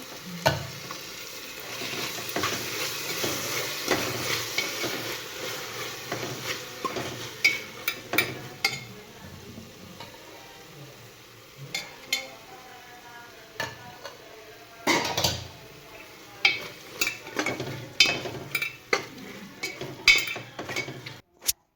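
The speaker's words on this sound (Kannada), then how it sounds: "ಈಗ ಮಸಾಲೆ ಎಲ್ಲ ಚಂದ ಫ್ರೈ ಆಗೈತಿ ಮತ್ತು ಮಸಾಲೆ ಎಣ್ಣೆನೂ ಬಿಟ್ಕೊಂಡೈತಿ" Masala mixed with curd fries in oil in a pan while a spoon stirs it, giving a soft sizzle under repeated scraping and clinking strokes against the metal, with quiet speech now and then.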